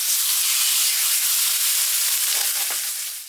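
Steak sears loudly in hot coconut oil in a pan, producing a dense, continuous close-up sizzle and hiss that holds steady throughout and eases off slightly at the very end.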